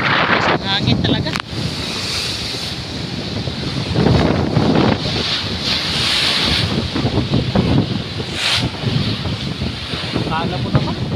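Strong southwest monsoon wind roars and buffets the microphone over big crashing waves in Isabel, Leyte, a constant loud rush with a voice faintly audible beneath it.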